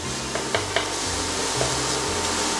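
Onions for chili sizzle steadily in a hot pan while a spoon stirs them, with a few sharp scraping clicks over the constant frying hiss, close by and without talk.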